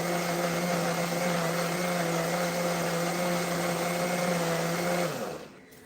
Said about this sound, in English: You want to make sure that everything here is well blended.